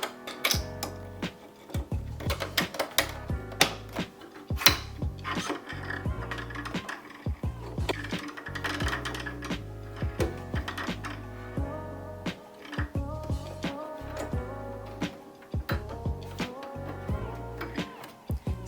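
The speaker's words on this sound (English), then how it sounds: "I just set it on stitch number 9 on my machine, which is just a small straight stitch, and I just stitched" A sewing machine runs a small straight stitch on a halter top in short bursts of rapid mechanical ticking, with pauses between runs, close and moderately loud.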